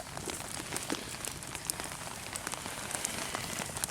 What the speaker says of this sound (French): Oh merde, il commence à pleuvoir.